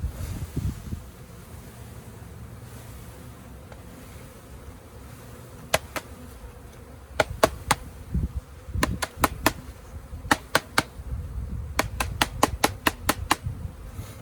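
A low hum of buzzing honey bees fills the air with wind rumble as a package of bees is installed into an Apimaye hive, while sharp clicks and taps sound in irregular bursts close to the microphone.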